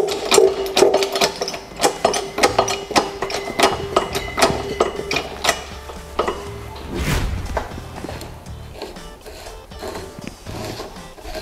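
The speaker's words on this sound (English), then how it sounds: "And you need to press it down on the hydro press." A hydraulic press pressing BMW M3 differential parts during a limited-slip differential conversion for an E92 M3, heard as a run of sharp metallic clicks and knocks with a brief low push near the middle.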